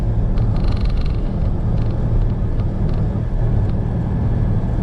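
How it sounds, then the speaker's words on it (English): A car driving through Aude, France, its engine running a bit rough, produces a continuous loud road rumble and engine drone with faint higher whirring and a few brief rattles, steady throughout with no voices. "The car started to run a bit rough"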